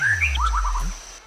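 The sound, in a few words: a person whistling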